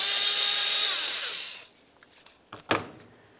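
On the intake of a 1998-2002 Lincoln Navigator, a power tool whirs loudly at an 8mm clamp for about a second and a half, then stops, followed by a few sharp clicks of metal nearby.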